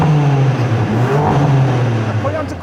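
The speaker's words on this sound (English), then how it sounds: "The car is now warm, so let's hear some more revs" A warmed-up new BMW M3 engine held at higher revs, a strong rumbling drone with slight pitch swells, close by and continuous.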